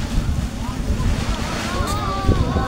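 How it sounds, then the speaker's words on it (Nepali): Wind gusting outdoors during the Chhait puja festival, a constant loud buffeting rush across the microphone, with people talking underneath. "हामी आउने बित्तिकै हावा चल्छ त"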